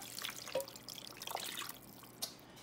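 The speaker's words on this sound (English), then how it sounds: "And we have 4 cups of water. And we're just gonna pour it on top." Four cups of water are poured over birria meat in a kitchen, a soft, continuous splashing trickle that stays quiet throughout.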